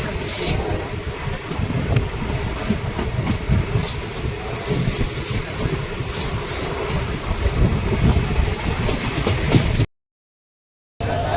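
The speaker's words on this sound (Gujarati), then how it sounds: "આપણી ટ્રેન આવી રહી છે" A train rolls into a station near Sarangpur, a loud continuous rumble of wheels and carriages with faint clickety-clack and high squealing above, ending in a brief cut-out.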